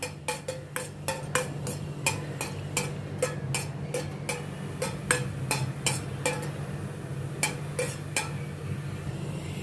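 Whole spices, a bay leaf, two green cardamoms, two cloves and three black peppercorns, are stirred in a hot pan for a no-onion, no-garlic potato curry. A steady run of sharp, close clinks and ticks sits over a faint, constant sizzle.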